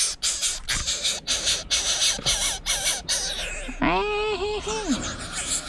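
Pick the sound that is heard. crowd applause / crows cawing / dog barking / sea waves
crows cawing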